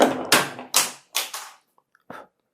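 Homemade slingshot fired on a tabletop after its holding string is burned through, giving a few sharp taps and clatters of the launched object bouncing, close and fairly loud, with quiet gaps between.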